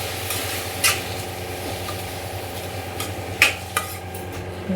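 Stirring a tomato and fish curry mixture in a pan, with a steady soft scraping and sizzle and a few sharper utensil knocks against the pan, close and moderately loud.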